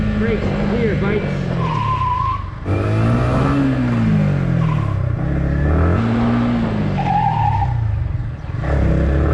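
A Yamaha MT-15 motorcycle brakes hard and skids, with tire squeal and engine revving rising and falling in repeated passes, loud and close, while someone talks over it.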